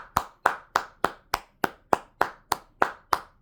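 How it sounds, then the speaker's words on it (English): A single person claps hands in a steady, even rhythm, about a dozen sharp, close claps spaced evenly, with no talk over them. "Let me clap for that."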